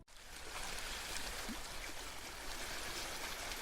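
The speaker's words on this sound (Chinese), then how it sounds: "我只有听到海浪的声音呢。" Sea waves make a steady, faint, rushing wash of broadband surf noise that continues without breaks, with no talking.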